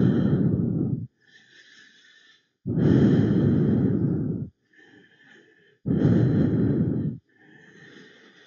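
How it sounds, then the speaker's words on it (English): Slow, deep breathing during yoga practice, heard close and alone: three long, loud breaths separated by quieter, airy phases. "and breathe."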